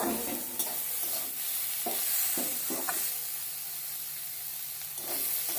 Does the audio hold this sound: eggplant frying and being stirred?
yes